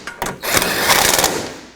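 Nuts being snugged onto the top strut mount of a 2004-2008 Acura TL, giving a dense, steady ratcheting whir with faint sharp onsets, loud and close throughout.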